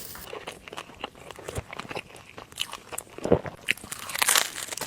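Crisp crunching bites into a fried meat bun with crispy skin and green pepper in the meat filling, followed by close, irregular chewing and crackling throughout, with no talking.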